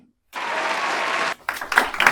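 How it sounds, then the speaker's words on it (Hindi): Students in a Hindi maths classroom break into a sudden burst of applause that runs steadily for about a second, then fades into talking and scattered claps. "बजाओ ताली"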